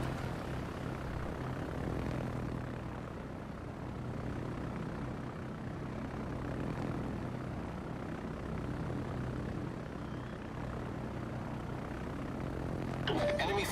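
Fighter aircraft in a naval combat game, droning steadily with a propeller-like hum for the whole stretch at moderate level, alongside game voice lines and other in-game sounds.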